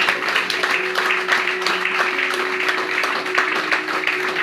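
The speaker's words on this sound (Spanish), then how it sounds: "Te brindamos el más fuerte los aplausos, Señor" Applause at a church vigil, a dense continuous patter of clapping from a congregation, steady and fairly loud throughout, with a sustained tonal hum underneath.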